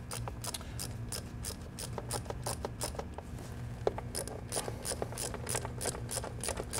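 A hand ratchet loosens bolts on a car engine cover, giving a quick run of sharp, evenly spaced clicks close by, with no talking.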